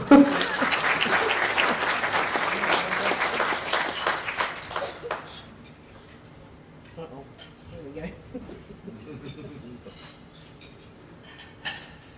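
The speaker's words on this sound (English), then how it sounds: "Yeah, round of applause." Applause at the Gippstar Awards sports ceremony as the chair is called to the stage, a dense round of clapping lasting about five seconds before fading into quiet room tone with faint scattered sounds and a brief later clap.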